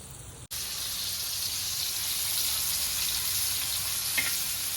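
Mandeli fish fry in hot oil in a pan, giving a loud, steady sizzle that runs without a break, heard close with no voices and only a faint clink near the end.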